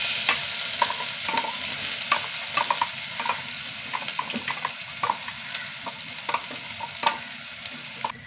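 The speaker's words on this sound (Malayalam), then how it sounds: "കടുക് പൊട്ടി നമ്മുടെ മാങ്ങാക്കൂട്ട് ഇട്ട് കൊടുക്കാം കേട്ടോ." A raw mango mixture fries in a pan of oil with popping mustard seeds and fenugreek, a steady close sizzle punctuated by frequent sharp crackles and pops.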